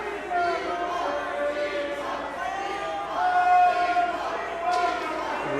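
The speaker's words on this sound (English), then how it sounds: "Listen to this crowd." A professional wrestling crowd at a Speedball Mike Bailey versus Breeze match, roaring and chanting steadily in a large room, swelling louder in waves near the middle and end.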